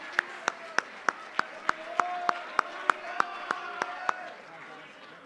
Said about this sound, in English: One last time, a round of applause for our Heart of the Highlander Awards for the fall varsity sports season.